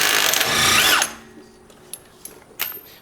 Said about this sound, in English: we're going to use our 21 millimeter socket to take off these lug nuts for our tire rotation